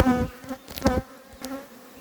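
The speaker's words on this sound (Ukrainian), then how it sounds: "У мене колись була Згадяча, непогана бджола" Buzzing of bees or similar insects, a harmonic drone that swells and fades in a few close passes over about two seconds.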